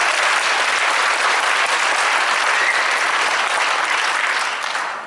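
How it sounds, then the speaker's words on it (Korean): Audience at a Korean church theology forum applauding, a dense, even wash of clapping from a large crowd in a hall, loud and continuous before tapering off at the end. "박수 한번 주셔야죠."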